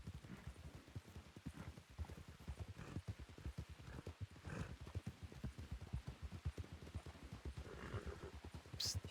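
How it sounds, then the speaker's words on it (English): Hooves of a dark liver chestnut Black Forest horse in a Western role-play game clop in a quick, steady rhythm throughout, fairly close and alone, with a faint whinny near the end. "She's a dark liver chestnut, Black Forest horse."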